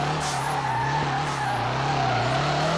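A car in the FR Legends video game drifts with a continuous loud tire skid over a steady engine drone, close and unbroken throughout.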